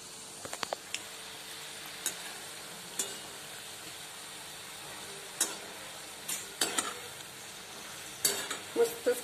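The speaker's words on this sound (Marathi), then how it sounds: "छान लाल खुसखुशीत होईपर्यंत आपल्याला ते तळून घ्यायचे आहे" Onion pakoras (kande bhaje) deep frying in oil: a quiet bed of bubbling with scattered sharp pops and crackles, some in quick clusters, close by, with no talking.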